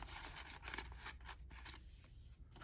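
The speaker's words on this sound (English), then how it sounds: "Now here I can just slip in there and cut that out." Scissors snip through paper ephemera in a series of quiet, close cuts, soft crisp clips repeating unevenly.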